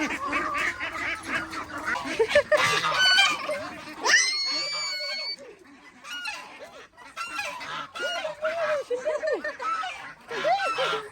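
Loud, harsh honking and squawking calls from chickens, several birds calling in bursts with a shrill cry near the middle; no clear rooster crow.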